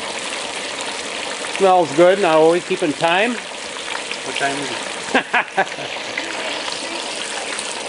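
An 11-pound whole turkey deep-fries in a pot of hot oil outdoors, a soft steady sizzle and bubbling running under the whole stretch while people talk nearby.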